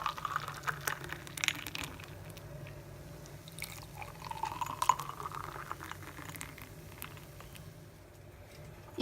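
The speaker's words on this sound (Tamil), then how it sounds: "இப்போ நம்ம கிளாஸில் ஊற்றிடலாம் ரோஸ் மில்க்கு." Rose milk poured over ice into a glass makes a faint, close liquid trickle and splash, with a few light clinks and small bursts as the pour rises and then tapers off.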